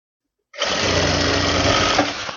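A sewing machine stitches folded lehenga fabric in a steady, continuous whirring run of about two seconds, close and loud, with no talk over it.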